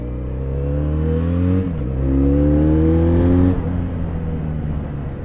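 A Benelli Leoncino 500 motorcycle engine with stock exhaust revs close by in low, steady harmonic tones, rising in pitch twice before dropping back to idle.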